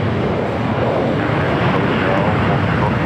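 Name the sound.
airliner of flight 8201 to Honolulu at LAX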